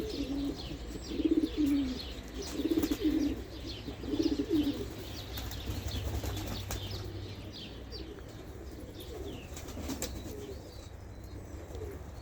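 Young pigeons out in the open coo in soft, repeated bursts, fairly close, as faint chirps and occasional wing flaps come through over light outdoor background noise.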